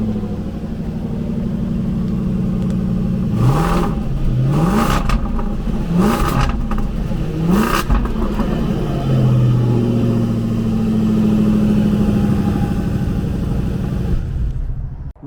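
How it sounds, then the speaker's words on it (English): A Land Rover Defender L663 Carpathian with a V8 engine idles with a low rumble, then revs sharply four times in quick succession before settling back to a steady idle, loud and close, with no talking. "that was actually the car dribbling, George has pointed out"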